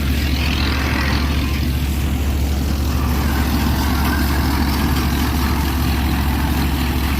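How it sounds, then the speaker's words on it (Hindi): A Swaraj 963 65 HP tractor powering a Gill 588 tractor-mounted combine harvester runs with a steady, heavy low rumble and broad mechanical whir, continuous and close, with no talk. "स्वराज कंपनी का ट्रैक्टर है भाइयों, 963 65 HP ट्रैक्टर।"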